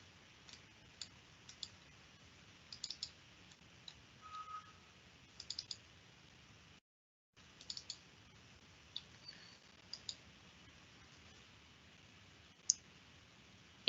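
A computer mouse clicking during office software work, heard as scattered faint single and double clicks over a quiet background hum, with a short pause in the middle.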